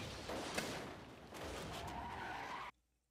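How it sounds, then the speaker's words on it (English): A cartoon car skids loudly in a long tire screech with an impact near the start, and the noise cuts off abruptly after a few seconds into near silence. "Poor Cyborg, that car's always getting destroyed"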